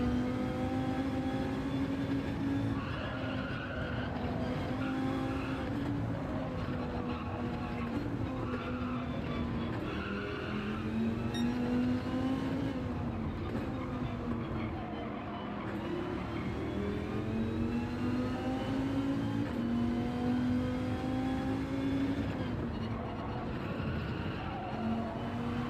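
Race car engine in Gran Turismo 7 droning steadily throughout, its pitch rising and falling with throttle and gear changes, with some tire squeal, continuous and loud with no talk.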